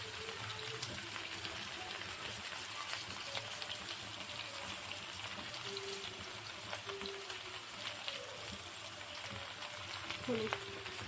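Bottle gourd and potato fry together with salt and turmeric in a pan, giving a steady, faint, close sizzle that runs throughout without any speech.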